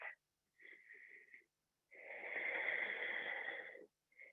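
Slow, deliberate breaths during a seated chair yoga session, with a shorter exhale followed by a long, drawn-out airy breath, heard close and soft against a quiet room.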